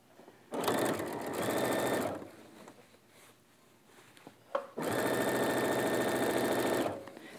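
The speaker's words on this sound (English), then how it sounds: "Take that to your machine. And you're going to sew right inside that fold or that little ditch." A sewing machine stitches a coat seam in the ditch of the fold, running in two loud, steady bursts of about one and a half and two seconds with a quiet pause between them.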